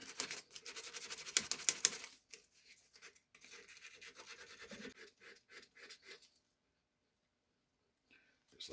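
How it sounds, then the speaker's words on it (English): Sandpaper of 60 grit scrapes across a handmade jewelry piece in a run of quick, dry rasping strokes, loudest at the start and then thinning out into fainter scratches before quiet. "I'm going to take some of my 60 grit sandpaper,"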